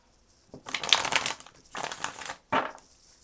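Tarot cards are shuffled in three quick riffling bursts, close and crisp, with short pauses of quiet between them.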